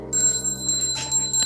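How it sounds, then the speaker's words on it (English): A little bell rung for a sound-cleansing ritual over a spell jar gives bright, clear chimes with several soft repeated strikes and sustained ringing overtones, close and fairly loud with no talking. "So I'm going to use a little bell."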